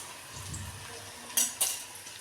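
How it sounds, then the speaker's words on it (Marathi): Cornflour-coated cauliflower manchurian fries in a pan with a low, steady sizzle, broken near the end by two sharp metallic clinks of a utensil against the pan. "तुम्ही फक्त फ्राय करताना लालसर फ्राय करून घ्या"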